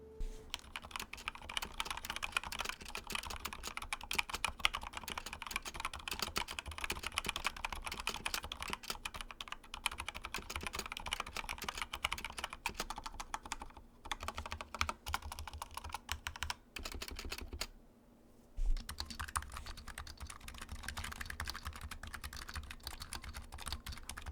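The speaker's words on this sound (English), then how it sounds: "a quick back-to-back sound test of the linear variation of both of these keyboards" Continuous fast typing on Razer BlackWidow V3 Mini and Huntsman Mini keyboards with linear switches, a close, dense clatter of keystrokes going back to back, with a brief pause near the end before the typing resumes.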